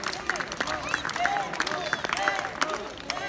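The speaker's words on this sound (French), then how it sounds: "Allez, applaudissez-les, il le mérite" Spectators clap for the players at a pelote tournament final, scattered applause over a busy crowd while a commentator talks over it.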